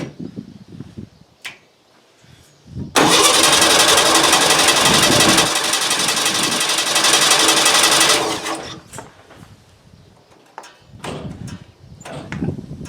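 A buggy's small engine cranks to life and roars loud and steady for about five seconds, then cuts back to a lower idle before dying away, with faint knocks and handling noises around it.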